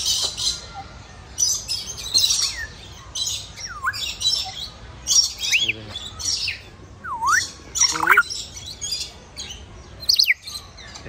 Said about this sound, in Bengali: পার্কের ভিতরে আপনারা হয়তো বা শুনতেই পাচ্ছেন পাখির ডাক